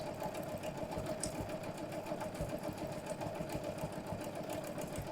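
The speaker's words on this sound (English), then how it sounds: "So you can see I'm just guiding my fabric around. I'm sewing at about a medium sort of speed." A Janome sewing machine stitches fabric at a steady medium speed, a continuous close whirring hum with a fast mechanical needle rhythm running evenly throughout.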